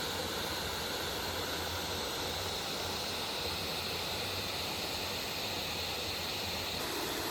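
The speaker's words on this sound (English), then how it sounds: "look here are the waterfalls" Waterfalls in Sagada pour as a steady, dense broadband rush that holds evenly throughout with no talk.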